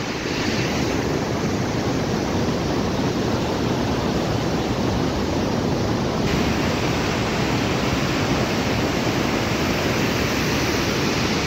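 The Pelma stream, also called the small Bheri, rushes below a bridge in rural Rukum East, a dense, constant roar of water close by with no voices.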